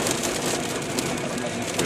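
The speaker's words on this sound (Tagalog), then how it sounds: "Lakas ng ulan, oh." Steady, dense hiss of heavy rain pouring down close by in Doha, Qatar, a constant wash of sound with no pauses.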